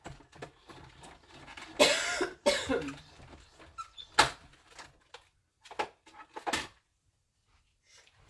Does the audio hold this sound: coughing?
yes